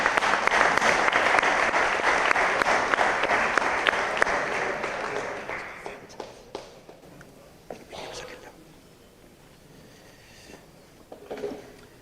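A seated audience at a book presentation in Palma del Río applauds a parish priest, a dense, loud round of clapping that holds for several seconds, then thins to scattered claps and fades into murmurs and shuffling.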